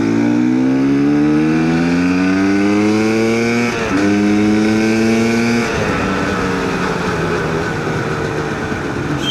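A GPX TSE 300 motorcycle pulls through the gears, its engine note climbing steadily, dropping sharply at two quick shifts and then settling into a rougher, loud drone mixed with wind rush.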